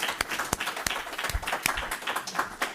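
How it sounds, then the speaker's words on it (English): A modest audience at a talk on Afro-Colombian literature and culture gives a round of applause, a thin, patchy spatter of hand claps with a few sharp individual claps standing out, fairly quiet. "Let's give her another round of applause."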